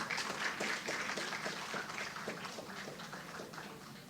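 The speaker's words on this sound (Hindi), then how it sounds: "अपने लिए खुद एक बार तालियां बजा दें सब।" An audience at a student poetry competition applauds, a steady, slightly distant wash of many hands clapping that fades a little toward the end.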